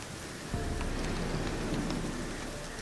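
Rain in the video game Witcher 3: Wild Hunt hisses steadily and fills the scene, with a low rumble that swells in partway through and no voices over it.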